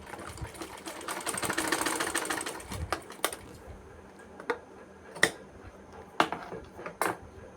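Sewing machine running on fabric for a press stitch, a soft burst of whirring followed by a series of sharp, separate clicks and taps at close range, fairly quiet overall.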